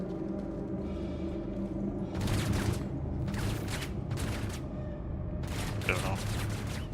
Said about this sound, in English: one of our guys is rocking the minigun right now